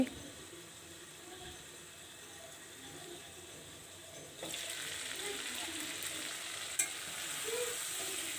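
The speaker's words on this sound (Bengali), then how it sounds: "তো আমি বেশ সময় নিয়ে মাংসটা অনেকক্ষণ কষিয়ে নিচ্ছি, চুলার আঁচটা কমিয়ে।" Meat slowly browning in spices in a pan over low heat, a soft steady sizzle that grows louder partway through as it is stirred, with one brief clack of a utensil, close by and without talking.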